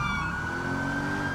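A police car siren wails in a GTA roleplay pursuit, a loud, steady electronic tone holding close for a brief moment under engine rumble, with no talking.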